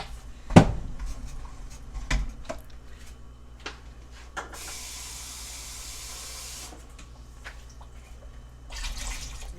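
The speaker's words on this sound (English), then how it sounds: "Add a little bit of water." Water pours into a pot of jollof rice with a steady hiss for a couple of seconds, after clanks and knocks of the pot, with a brief louder splash near the end.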